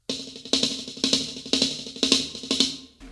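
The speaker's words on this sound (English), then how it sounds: "So if you decide to play it up to speed," A drum six-stroke roll is played up to speed, coming as rapid bursts of strokes in an even pulse about twice a second, with accented hits, loud and close with no talking.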